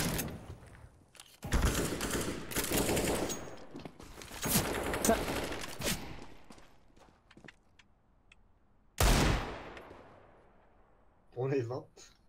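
Gunfire in CS:GO comes in several sharp bursts of rapid shots separated by short pauses, loud and close. A voice speaks briefly near the end.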